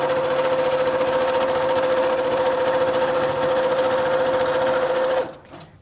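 A sewing machine runs steadily stitching t-shirt quilt blocks together, a loud, close, continuous motor whir with rapid needle chatter that stops abruptly near the end.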